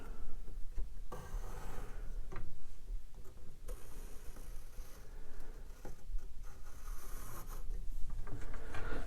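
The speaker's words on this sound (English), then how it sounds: "I touch here, I touch there, and then I draw the curve." A pencil scratches along a French curve template as a curve is drawn in a woodworking shop, faint close scratching strokes with small ticks and rubs throughout.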